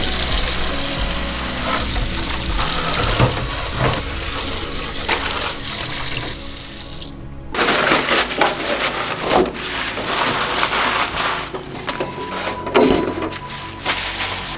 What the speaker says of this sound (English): let's go wash this body.